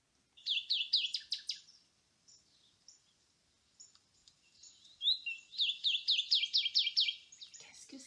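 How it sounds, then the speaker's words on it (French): A northern cardinal sings two clear phrases of rapid, repeated whistled notes, separated by a quiet gap with faint chirps, heard fairly close against a still background. "C'est le cardinal."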